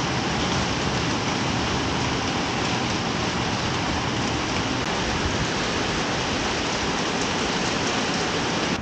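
Steady, dense rain pours down without a break, a loud, even hiss of drops hitting surfaces close by, with no voices or other sounds standing out.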